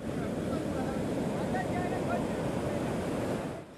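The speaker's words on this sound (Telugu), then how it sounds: "10 అడుగుల మేర అలలు ఎగిసిపడుతున్నాయి." Rough sea surging during Cyclone Nilam makes a dense, unbroken roar of waves and wind, loud and steady throughout before easing at the very end.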